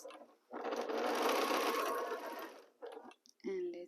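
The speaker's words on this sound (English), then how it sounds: "Now it's time to sew. As usual, we sew 1/4 inch seam allowance." A sewing machine stitches a quarter-inch seam through fabric in one steady, loud, close burst of about two seconds, then a few short stitching bursts follow.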